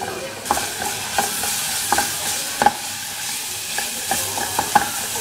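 Garlic frying in olive oil in a pan while beans are cooked, a continuous sizzle broken by several sharp clinks of a utensil stirring against the metal.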